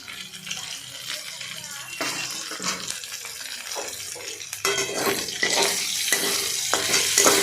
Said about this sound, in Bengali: এবার সেটাকে ভালো করে নাড়াচাড়া করলাম।